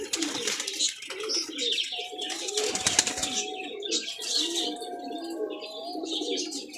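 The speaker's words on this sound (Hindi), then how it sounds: "ये एक और टैडी कबूतर देखो" Several Teddy pigeons, breeder birds, coo softly at close range in a loft, with light chirps and a brief flutter of wings amid faint background noise.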